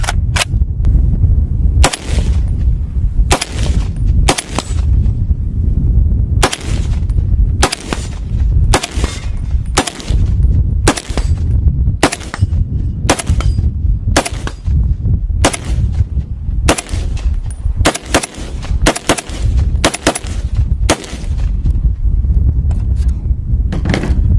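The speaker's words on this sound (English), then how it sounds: "This one's a lot of fun to shoot because it is still manageable, but you know you're dealing with the bigger round" Loud, close rifle shots from a high-calibre cartridge, about fifteen sharp reports spaced roughly one to two seconds apart with the action cycled between them, over a steady low rumble and no talk.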